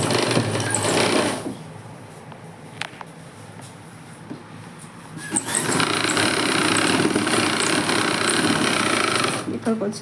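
Sewing machine stitching the side seam of a blouse, its motor running in loud, close bursts with a quieter pause between runs, while someone speaks over it.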